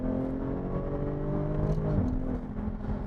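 Supercharged Jaguar F-Type engine pulling in third gear from about 3,500 rpm at 40 mph, a steady in-cabin hum that rises and shifts in pitch, heard alone with no talk.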